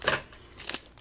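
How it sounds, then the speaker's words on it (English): Scissors snipping open Japanese Cold Flare trading card booster packs, two quick, faint, close cuts about half a second apart. "I'll have to use the scissors to open them up"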